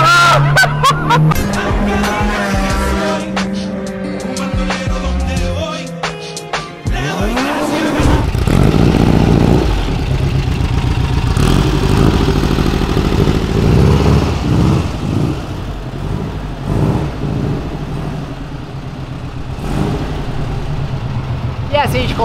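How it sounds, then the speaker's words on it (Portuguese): A VW Kombi fitted with an Audi S3 engine drives loud and close, its engine note rising and shifting through gears with a continuous roar, while people talk over it. "Foi um rolê numa Kombi com motor de Audi S3."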